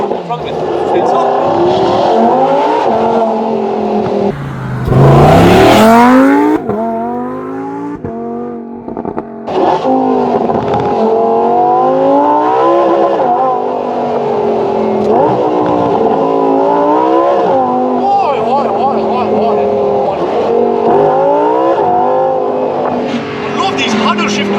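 Lamborghini Huracan engine revving hard and accelerating through rising, falling gear pulls, with one sharp loud surge early on and people talking over the roar.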